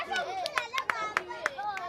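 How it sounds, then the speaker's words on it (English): Children clap in short, sharp bursts, roughly a handful of claps, mixed with lively children's voices. "Clap for yourself."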